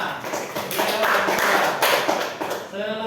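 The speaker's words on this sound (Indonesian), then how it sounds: "Tepuk tangan buat Naila." Classroom applause for a student named Naila, a group clapping in scattered, uneven bursts at close range, mixed with chatter and a voice speaking near the end.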